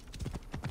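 Horse hooves clip-clop in Assassin's Creed Origins, a few quick rhythmic hoofbeats close by, brief and moderately loud.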